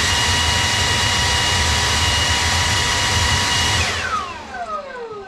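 Milwaukee M18 FUEL Gen II cordless leaf blower running on high, a loud, close, steady rushing roar of air that holds for about four seconds and then winds down with a falling whine.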